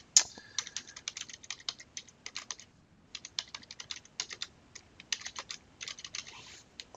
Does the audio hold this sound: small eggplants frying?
no